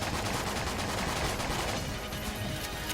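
Rapid continuous gunfire from a gun in the video game Enter the Gungeon, a dense, loud stream of shots that keeps on without pause, no speech over it.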